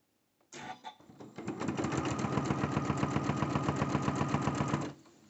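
A sewing machine stitches quilt blocks for a scrappy 9-patch quilt in one close, steady run of rapid needle clatter lasting about four seconds, starting and stopping cleanly.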